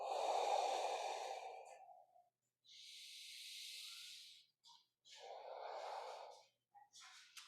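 Slow, deep breaths during a crocodile breath hip mobility class, alternating long airy inhales and exhales with short pauses between, close and soft, no talk.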